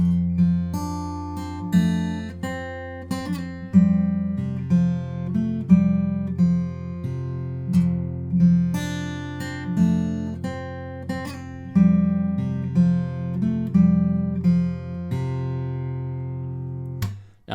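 Close, clean fingerpicked guitar plays the first bar of a song twice through, with a sustained low bass note under evenly rolling plucked notes that ring out at the end.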